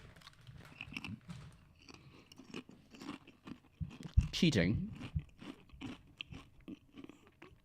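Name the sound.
crunching while eating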